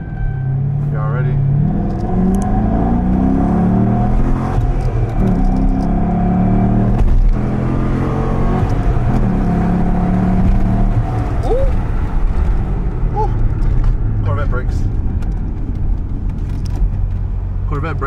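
A Nissan Skyline GTR at a car meet revs and rumbles through a flyby, its engine note rising and falling over about eighteen seconds, loud and close, with people talking over it throughout.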